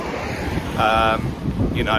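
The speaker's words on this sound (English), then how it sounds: "It's very windy, so sorry if the sound isn't great" Wind buffets a microphone with a steady low rumble, while brief tonal voice-like sounds come and go.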